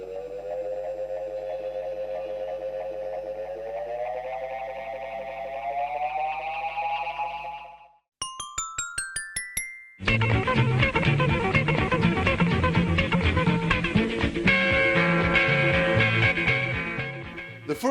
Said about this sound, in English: When pushed to extreme settings, the feedback control, sometimes labeled repeat or sustain, creates virtually infinite repeats, which is known as self-oscillation.